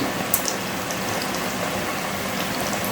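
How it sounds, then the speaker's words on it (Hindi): Poha fritters deep-frying in oil over a medium flame, a steady bubbling, crackling hiss with scattered small pops, fairly loud and close, with no talk over it. "और मीडियम आंच पर ही हम इसको तलेंगे"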